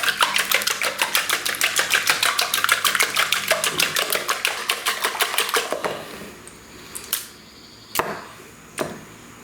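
Rapid, steady strokes whisk a raw ostrich egg in a bowl, a dense run of even clicks for about six seconds, then a few scattered single taps and knocks follow.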